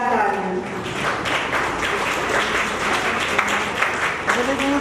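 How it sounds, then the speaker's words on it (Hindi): Loud, sustained applause from the audience at an all-India poetry gathering and book launch in Agra, a dense rippling patter of many hands clapping continuously for several seconds. "जोरदार तालियां।"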